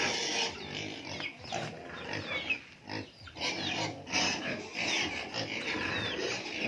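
Pigs on a farm grunt and squeal continuously at feeding time, several animals overlapping in rough, uneven bursts at close range.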